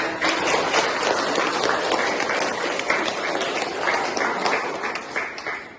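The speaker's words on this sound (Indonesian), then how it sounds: "tepuk tangan buat" A group claps together in a steady burst of applause lasting several seconds, fairly loud and close, then tapering slightly at the end.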